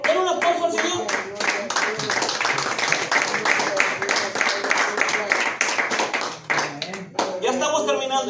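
A church congregation claps and applauds during a Spanish-language service, with loud, fast, rhythmic hand claps close by and voices calling out over and between them.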